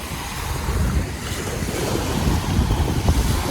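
Strong wind roars across an open beach at a state park with tidal water, surf washing in steadily beneath continuous, gusty wind buffeting the microphone; no voices.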